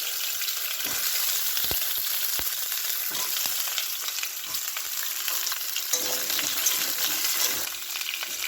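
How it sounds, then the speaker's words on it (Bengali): Cut potato and papaya pieces for a fish curry fry lightly in hot oil in a pan, giving a steady bright sizzle broken by a few sharp stirring clinks and scrapes, close and continuous. "এগুলো আমি হালকা করে ভেজে নেব"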